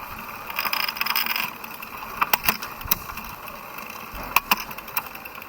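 Gear shifting on a 2020 Montra Rock 4.1 29-inch mountain bike, a few sharp derailleur clicks and ticks over a faint whirring of the drivetrain, close and fairly quiet.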